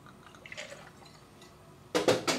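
Vodka is poured into a rocks glass filled to the top with ice, with faint liquid trickles at first and then a few louder wet clinks and splashes near the end.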